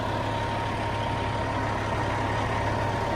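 A truck engine idles close up through the muffler with a skip, a dense steady low rumble and drone running continuously without a break.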